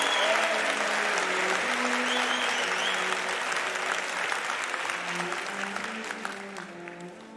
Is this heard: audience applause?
yes